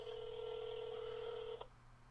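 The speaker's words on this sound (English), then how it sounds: "Call failed. We'll have to try John again." A telephone call is being placed, giving a steady electronic tone that holds for about a second and a half and then cuts off, leaving faint background hum.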